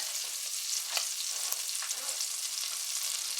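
Chopped onion and jalapeños sizzle in hot oil in a pan with a soft, steady crackle and a few stirring scrapes, fairly quiet and close.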